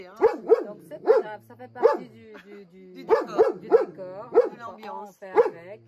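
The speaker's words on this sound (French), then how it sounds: "ça c'est mon chien." A pet dog barks repeatedly and loudly nearby in a rhythmic string of sharp barks and yips with short pauses, while someone talks over it.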